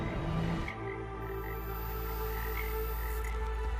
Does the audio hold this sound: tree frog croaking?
yes